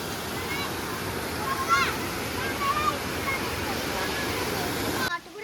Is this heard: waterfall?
yes